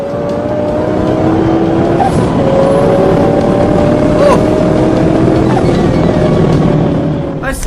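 A Nissan GT-R tears through heavy Russian traffic with police right behind: a loud, close engine roar with shifting tones and a passing whoosh of other vehicles, continuous throughout.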